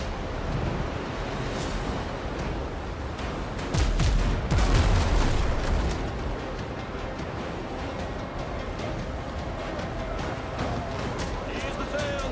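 Cannon fire from sailing ships at sea in the pirate game WindRose, a heavy burst of booming blasts around the middle over steady surf-like wash and wind, with voices talking throughout.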